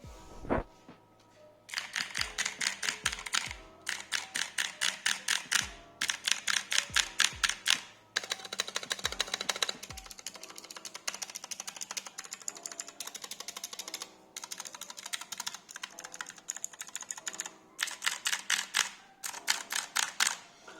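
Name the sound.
typing on blue optical switch keyboard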